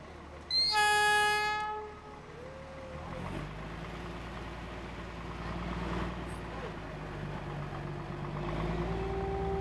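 The Darjeeling Himalayan toy train, running on a zigzag reversing section between Siliguri and Ghum, sounds a loud, sustained horn blast. Its engine then rumbles and its wheels clatter steadily at slow speed, with a voice talking in the background.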